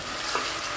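Chicken pieces frying in a pan, a brief, even crackling sizzle heard up close without speech.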